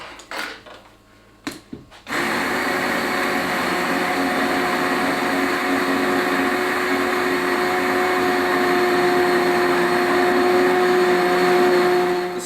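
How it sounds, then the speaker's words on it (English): A stick blender whirs loudly and continuously, pureeing a pot of Turkish lentil soup with carrots, after a couple of brief knocks as the wand goes in; the motor drones close and steady with no talk over it. "what we're going to use is a wand to just whiz everything up"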